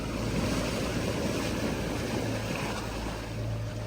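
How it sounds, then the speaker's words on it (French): A sailboat's inboard motor drones steadily at sea between Morocco and Cape Verde, a continuous low rumble with water rushing along the hull and faint wind, loud and close throughout. "La mer s'est calmée et on a mis le moteur."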